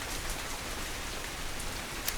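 Steady rain falling outdoors, a dense continuous hiss of drops on surfaces at an even level, with no voices.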